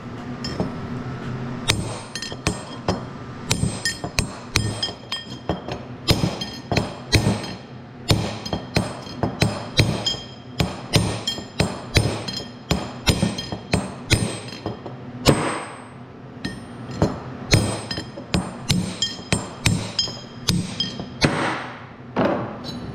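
Sharp metallic hammer strikes drive a bearing raceway out of a hub, a long run of close, ringing clinks and thuds at an irregular, quick pace in a lathe workshop.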